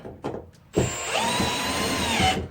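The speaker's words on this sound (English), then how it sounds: "And another screw." A power drill drives a screw into wood while blocking a shed loft floor, its motor whining up after a few knocks and holding a steady, rising drone for about two seconds.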